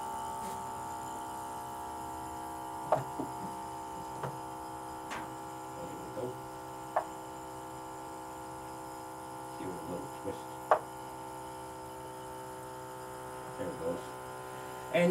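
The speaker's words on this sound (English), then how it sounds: "you can hear the pump begin to load up as the vacuum begins to increase in the bottle" A 12-volt vacuum pump on a goat milking machine runs with a steady, even electric hum, joined by faint occasional ticks and clicks as the vacuum builds.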